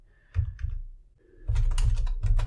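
Keys clack on a computer keyboard as an ssh-keygen command is typed: a couple of short bursts, a brief pause, then a denser run of rapid keystrokes, close and clear with no talking.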